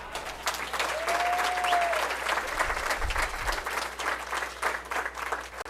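A school board of education meeting audience applauds graduating seniors with sustained, dense clapping that holds steady for several seconds, fairly close and without talk.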